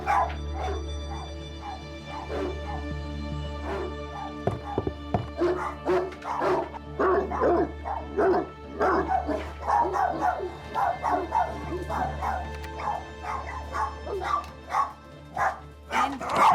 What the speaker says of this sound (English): I can hear the dog from here